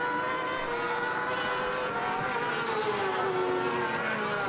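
A British F1 sidecar outfit powered by a 600cc Honda CBR engine races at Thruxton, its high-revving engine whining loud and continuous with shifting pitch as it passes, no voices.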